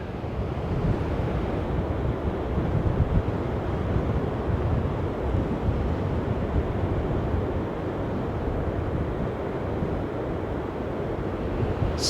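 Waves and wind at Sker Beach, Porthcawl, South Wales: a continuous broad roar of surf with wind buffeting the microphone, steady and loud throughout with no voices.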